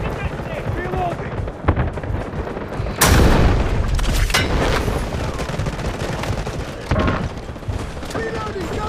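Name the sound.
gunfire and explosions in video game Delta Force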